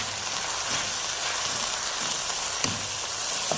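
Chicken pieces frying in a pan for a macaroni dish give a steady, close sizzle that never lets up, with an occasional sharper crackle or spatter and no talking.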